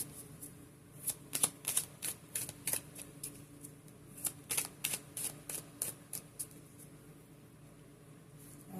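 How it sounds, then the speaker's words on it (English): A deck of cards being shuffled in quick riffling bursts, a series of sharp crisp flutters with brief pauses, close and fairly quiet. "Let's do a quick shuffle."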